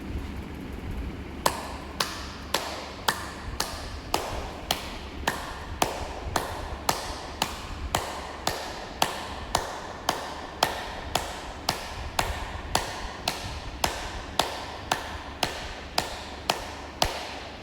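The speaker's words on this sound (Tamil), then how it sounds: "நல்லா உங்களால் எவ்வளோ மேலே தூக்கி தட்ட முடியுமோ தட்டுங்க" Hands slap the body in a steady exercise rhythm, about two sharp, close taps per second repeating for roughly sixteen seconds with no talking over them.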